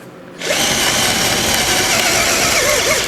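A Procraft PA18DFR cordless drill spins a 32 mm Forstner bit at first speed, its steady whine starting abruptly after a brief quiet moment and holding loud and close with no talk.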